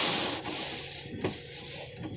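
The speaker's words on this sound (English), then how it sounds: "that was the windshield wipers working to get the frost off of my windshield." Windshield wipers scrape and rub across frosted glass with a soft thump partway through, close and fairly quiet, no talking.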